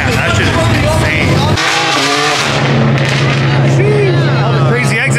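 A loud modified car at a BMW meet roars and revs close by, with tire squeal over harsh engine noise. Excited crowd voices talk over it.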